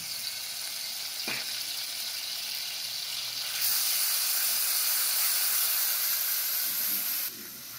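A little garlic sautés in hot oil, making a steady hiss that gets louder partway through and then drops back near the end, with no talking.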